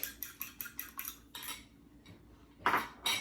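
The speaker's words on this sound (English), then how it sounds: "So I just wanted to slightly beat my egg." An egg is lightly beaten in a bowl: a quick run of rhythmic utensil clicks against the dish, a short pause, then a few louder, scraping strokes, close and unaccompanied.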